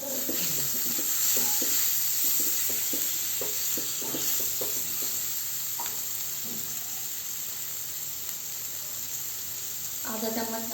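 Chopped tomatoes hit a hot pan seasoned with Kashmiri chili powder for a Maharashtrian veg thali, giving a steady faint sizzle and hiss with light spoon taps, then a burst of stirring clatter at the end.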